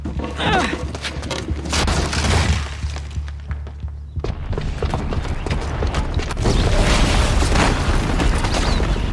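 A bomb explodes in the video game Horizon Zero Dawn, giving a heavy, sustained roar of blast and crashing debris. Deep rumble runs throughout, with a fresh surge of noise partway through, loud and dense.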